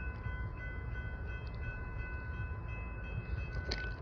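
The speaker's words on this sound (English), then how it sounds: "There might be another train coming." An intermodal freight train rumbles steadily with a sustained tonal drone and light metallic clicks, no one speaking.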